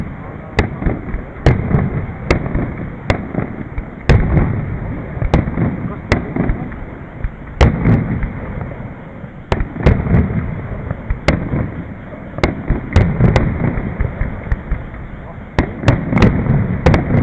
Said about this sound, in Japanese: 花火打ち上げかな、なってるか。